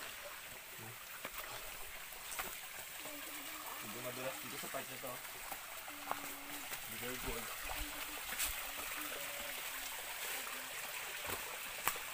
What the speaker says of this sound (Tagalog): ngayon, medyo palakas na ng palakas ang tubig.